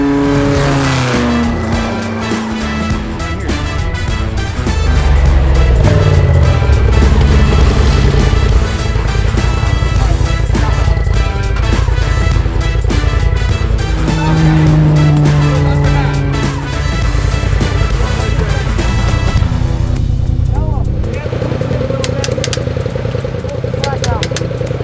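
A Polaris RZR side-by-side off-road vehicle roars loudly and steadily through an off-road race, its engine rising and falling in pitch with gear changes, with voices talking over it at times.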